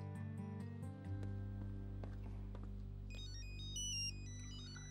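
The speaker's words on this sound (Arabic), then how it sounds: "حاتصل بنهاد" Phone ringtone playing during an outgoing call, a melodic electronic ring tone repeating over a sustained low musical bed, moderately loud with no talk.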